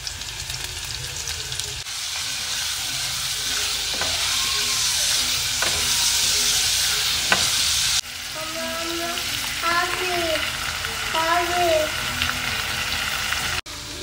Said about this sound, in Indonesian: Lanjut bunda goreng pempek.